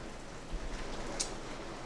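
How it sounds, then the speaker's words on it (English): Heavy rain falls steadily as a dense, even hiss across the whole stretch, with no talking. "it's really raining here good now."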